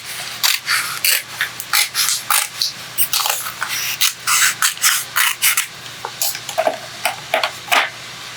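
Vinyl transfer tape being trimmed for a Cricut craft project, a close run of short, crisp cutting and rasping strokes in uneven bursts, with no talk.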